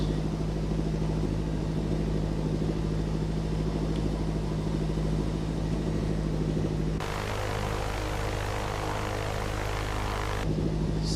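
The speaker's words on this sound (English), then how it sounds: "Advancing the throttles." Piper Cub engine in a flight simulator throttling up, a steady droning propeller hum that grows louder and rougher partway through, then settles back, with no talk over it.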